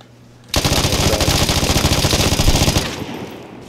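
Sustained automatic rifle fire in an online shooter game, a loud rapid burst of shots lasting about two seconds after a quiet start, then fading.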